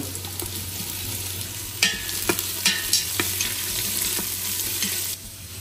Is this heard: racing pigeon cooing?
no